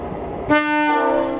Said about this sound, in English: will now depart Sydney and will then make its first stop to Hurstville